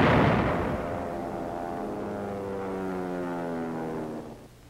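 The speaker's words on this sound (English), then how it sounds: "6-inch howitzers pound the north wall." A 6-inch howitzer fires during the March 1945 siege of Fort Dufferin at Mandalay, Burma. A single heavy boom rolls out into a long, droning reverberant tail that fades slowly, heard alone.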